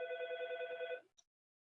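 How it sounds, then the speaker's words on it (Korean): A telephone rings with a single long electronic trilling burst of about a second, loud and close, then cuts off, followed by a brief faint click and silence. "전화가 왔네."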